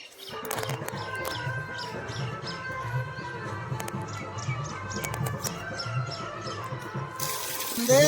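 Water pours steadily from a solar-powered pump outlet on farmland with a continuous splashing rush, joined by faint squeaks and clinks, ending in a louder burst.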